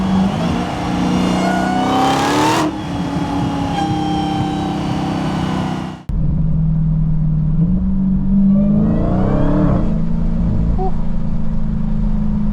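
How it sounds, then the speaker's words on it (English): A supercharged 2023 Dodge Challenger Hellcat Redeye Widebody engine revs hard, its supercharger whine climbing in pitch; after a brief cut it roars and climbs again. "as soon as you give it any throttle, you hear the amazing sound of that supercharger"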